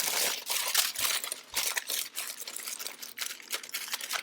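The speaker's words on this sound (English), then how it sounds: "Then I'm going to gently crumple up my aluminum foil." Aluminum foil is gently crumpled by hand, a dense crinkling crackle of sharp rustles that runs continuously and close throughout, with no talking.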